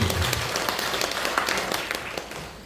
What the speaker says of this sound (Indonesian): Tepukan dulu yang meriah buat Tuhan.